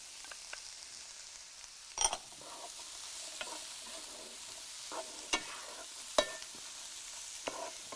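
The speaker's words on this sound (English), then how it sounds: "And so we'll add the red capsicum, and we'll also add the green." Red and green capsicum sizzle faintly in a hot pan while being stirred, with a soft steady frying hiss broken by several sharp clicks and scrapes of the utensil.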